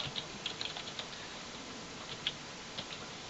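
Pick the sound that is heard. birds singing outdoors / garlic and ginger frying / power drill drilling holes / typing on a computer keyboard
typing on a computer keyboard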